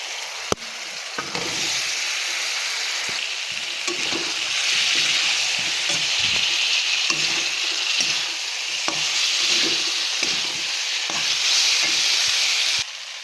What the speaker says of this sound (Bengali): এইবার ভেজে রাখা আলু দিয়ে দেবো।